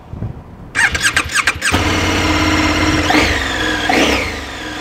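A KTM 1390 Super Duke R EVO motorcycle fires up after a burst of clicks, then settles into a loud, steady idle with two sharp revs rising above it, close by and with no talking.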